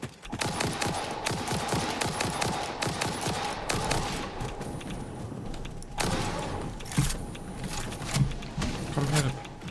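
Rapid bursts of automatic gunfire from an enemy in a factory-building video game, dense volleys with brief pauses, loud and close.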